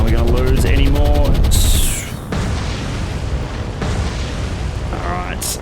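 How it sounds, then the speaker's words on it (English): Anti-aircraft fire booms and rumbles continuously in the naval game War on the Sea, a dense, loud barrage of low thuds and rattles, with tonal sound effects near the start and end. "You can hear the anti-aircraft fire there."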